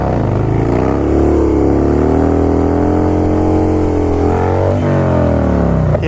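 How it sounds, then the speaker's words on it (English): Harley motorcycle with a 65-tooth rear sprocket revving hard during wheelies, a loud close engine roar that rises and holds through a long pull, then dips and climbs again near the end, with no talking. "I'm giving it way less throttle to pull the bike up"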